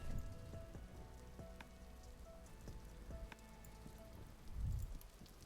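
Rain in the video game Vintage Story falls softly and steadily, a faint patter of drops on surfaces with scattered sharper ticks and a brief low rumble near the end, with no voices.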